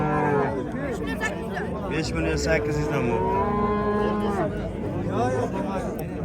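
Young calves moo repeatedly at a busy livestock market, loud and close, amid the chatter of traders and someone speaking over the animals.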